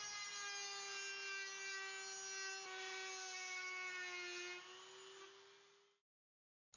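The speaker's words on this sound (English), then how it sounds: "Using a file or your Dremel tool, grind down the white plastic on the right side of the cluster." A Dremel rotary tool grinds down white plastic on an LED instrument cluster, giving a steady high-pitched whine that holds for about six seconds, then fades and stops.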